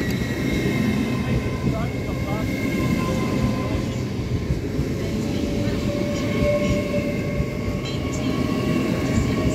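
Passenger train on the East Coast Main Line departing Doncaster station for York, Newcastle and Edinburgh, a steady low rumble and rolling rail noise running throughout, with faint tonal whines above it and no clear voices.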